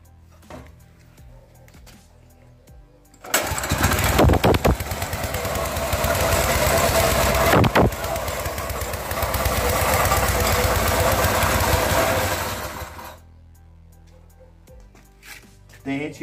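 A new longtail outboard boat motor starts abruptly and runs loud and rattling for about ten seconds, then cuts off, leaving quiet with faint handling noises.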